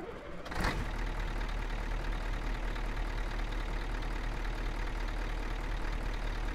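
Steady, fairly quiet drone of an idling Scania 124G truck engine in Euro Truck Simulator 2, starting after a brief click and holding constant throughout, alone with no talk.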